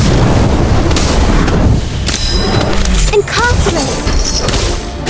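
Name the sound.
Incendio fire spell cast in Harry Potter: Magic Awakened video game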